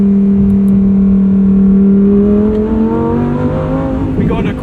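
A 2023 Lamborghini Huracan Tecnica, 631 horsepower, in sport mode, revving loudly and close up with a rising engine pitch, then upshifting near the end as the tone drops.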